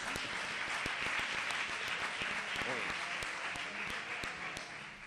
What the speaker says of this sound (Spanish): Un aplauso para el señor alcalde